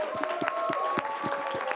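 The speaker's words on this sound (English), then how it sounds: "can we give a round of applause to them?" A festival panel audience gives a round of applause, with rhythmic clapping from the crowd that is moderately loud and continuous throughout.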